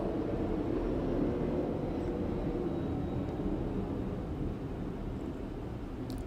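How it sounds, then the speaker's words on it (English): A plane flies overhead, a loud, steady broadband roar that fills the whole stretch and slowly eases off toward the end, with no talking. "A plane just like flew overhead and it was like really loud."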